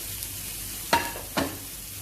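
Potatoes fry in a pan for a Spanish omelet, giving a steady soft sizzle broken by two brief, louder stirring scrapes close by, with no voices.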